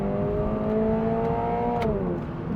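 A 2400 cc Subaru BRZ sports car engine revs hard under acceleration, a loud, close, steady drone that climbs in pitch and then eases back slightly near the end.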